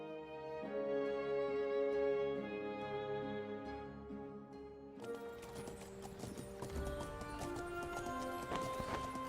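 Horse hooves clip-clop at a steady trot as a horse-drawn carriage moves in the video game Masquerada: Songs and Shadow, with a neigh and background game music before the hoofbeats come in loudly and close.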